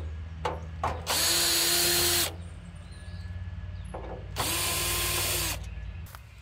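Two bursts of a cordless power drill whirring as it backs screws out of the top cover of a Mr Cool mini-split condenser, each run lasting about a second, with faint clicks and handling in between.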